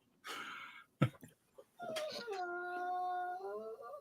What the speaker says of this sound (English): That is one of our dogs who is in the cage behind me.